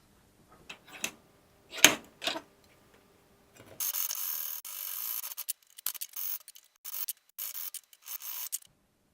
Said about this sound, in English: And then I'll use some files and a little bit of sanding to get the final shape done.